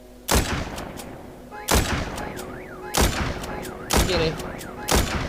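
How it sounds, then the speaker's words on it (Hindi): Sniper rifle gunfire in the zombie shooter game Walking Zombie 2: five loud, sharp shots about a second apart, each with a short ringing tail over faint game music and tones. "स्नाइपर तो बहुत तगड़ी चल रही है यार"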